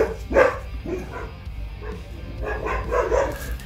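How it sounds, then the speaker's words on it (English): A dog barks excitedly in a room, giving a few sharp, fairly close barks and yips with pauses between, and faint background noise. "the dog's going mad"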